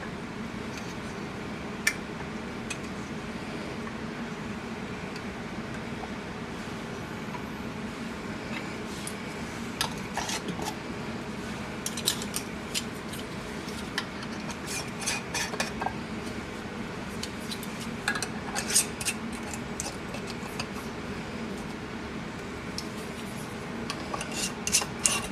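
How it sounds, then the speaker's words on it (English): Metal lids and rings screwed onto glass canning jars of sweet tea concentrate, scattered small clinks, scrapes and rasping twists growing busier toward the end over a steady room hum. "I'm going to put on my lids and my rings."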